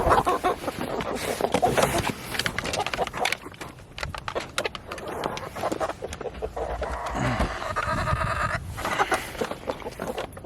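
Chickens clucking and squawking as they peck at eggs, with busy, irregular calls close by that overlap with rustling and handling noises.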